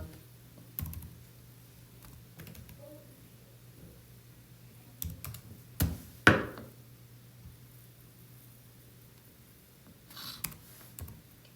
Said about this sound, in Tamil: அண்ட் தென் உங்களோட கேப்சா இங்கே கொடுத்துருக்க கேப்சாவை டைப் பண்ணிக்கோங்க